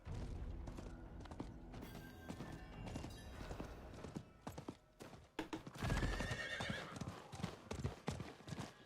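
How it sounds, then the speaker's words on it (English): Horse hooves clip-clop at a steady gallop in Diablo 4 while a hardcore Sorcerer rides, with a whinny and scattered thuds over dense game ambience, continuous and close for the whole stretch. "Let's get on our horse for this."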